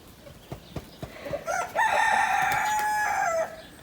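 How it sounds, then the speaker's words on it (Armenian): A rooster crows in a village, one loud, drawn-out call held for nearly two seconds, preceded by a few sharp clucks and clicks against quiet rural background. "Հագլորները հերթով ծուղրուղու են կանչում և գյուղական կլորիտը ավելի է գեղեցիկ դառնում"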